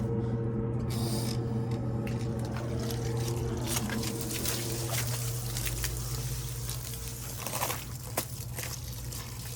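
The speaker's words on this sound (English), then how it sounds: "turn this hose on" A garden hose sprays a steady, loud hiss of water onto all-weather floor mats outdoors, a continuous rushing patter with faint spattering changes throughout.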